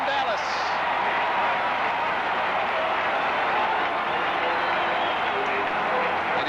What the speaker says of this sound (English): And you feel this Dallas crowd come alive.